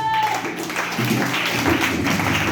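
A church congregation applauding to acclaim the Lord, a diffuse wash of clapping and crowd noise with voices mixed in, steady and moderately loud over the whole stretch.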